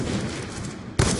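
Gunfire rings out on the Hijacked map in Call of Duty Black Ops 2: a low ambient rumble suddenly breaks into a loud, close shot burst near the end of the brief moment.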